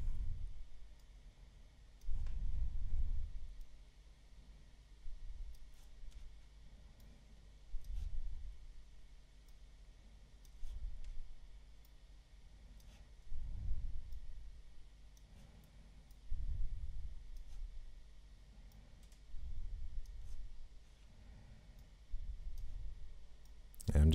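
Soft computer mouse clicks, isolated and irregular, faint beneath a voice heard throughout.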